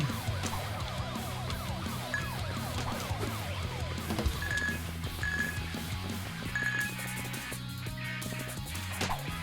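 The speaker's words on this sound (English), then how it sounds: "Yeah, that was a police car." A police car siren wails in a video game, its rising and falling electronic tone sitting amid dense game music and effects, with several short, bright beeping tones partway through and no one talking.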